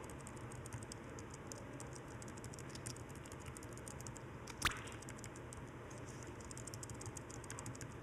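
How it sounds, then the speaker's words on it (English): Steady, rapid keyboard typing clicks run throughout at a moderate level while a player works in the computer game Robot Odyssey Rewired, with one brief sharp click standing out midway. "Let's maybe use the keyboard to let these,"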